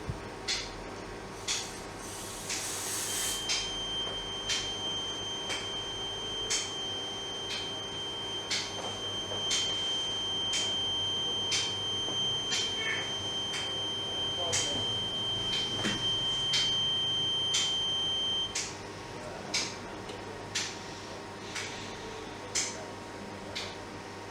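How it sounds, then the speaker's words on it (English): Reconditioned smoke detector heads on test give off a steady run of short, regular ticks or beeps spaced about a second apart, with a faint high tone held through the middle and a low hum beneath. "It is now clear that all three detector heads are working successfully and are ready to be delivered to the customer."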